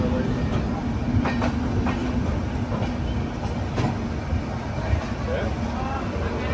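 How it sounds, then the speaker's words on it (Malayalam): An Intercity Express train rolls into Viramgam Junction station, a steady rumbling roar with faint rhythmic wheel clicks, heard from on board alongside some nearby speech. "വിറങ്കം ജംഗ്ഷൻ റെയിൽവേ സ്റ്റേഷനിലേക്ക് ഇതാ നമ്മുടെ ട്രെയിൻ എത്തിക്കൊണ്ടിരിക്കുക"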